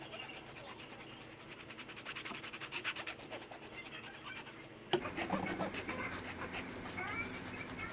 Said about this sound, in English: I'm going to start sanding and shaving down the cork.